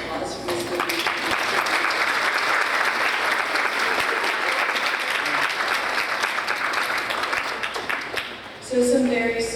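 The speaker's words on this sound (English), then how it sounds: "Can I get another round of applause for Ms. Woodley?" A full audience at a youth mental health symposium applauds steadily for about eight and a half seconds, a dense, even wash of clapping that cuts off as a voice begins speaking.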